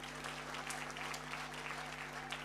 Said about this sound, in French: Applaudissez pour nous.